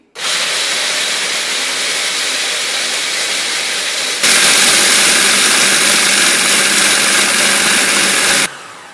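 A food processor blitzes biscuits into fine crumbs for a baked New York cheesecake base, a loud steady whirring grind that climbs to a harsher, louder roar midway and then cuts off abruptly, with no talk.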